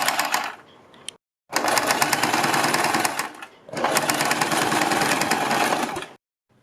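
Fast, loud bursts from a sewing machine stitching the neckline of a suit, running in three spurts separated by short silent pauses, with no voices.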